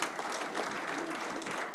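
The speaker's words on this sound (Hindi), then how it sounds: "एक बार जोरदार तालियां बजा के आप स्वागत करें" Audience applause at a BJP virtual political rally in Rajasthan, a steady dense wash of clapping that holds evenly for under two seconds with no voices over it.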